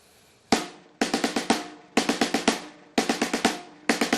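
A snare drum plays repeated quick five-stroke roll figures, each burst of rapid strokes ending on an accent, close and clean with short gaps between.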